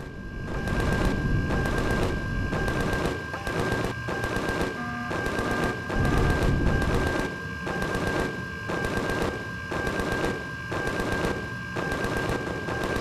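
Sustained machine-gun fire rattles in bursts from an enemy shooter in the sci-fi survival game Empyrion, loud and close, with brief pauses between volleys and a steady tonal hum underneath.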